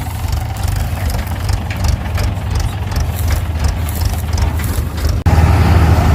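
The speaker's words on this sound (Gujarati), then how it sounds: "ટ્રેક્ટર આવી ગયું છે" A heavy diesel tractor engine idles at night with a steady low rumble and rhythmic knock, close by, growing slightly louder near the end.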